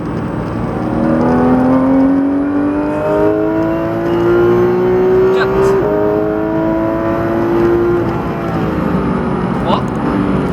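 A Porsche 991 GT3 RS engine accelerates hard on the La Ferté race circuit, rising steadily in pitch through the gears with one brief shift. It stays loud and close, from inside the car.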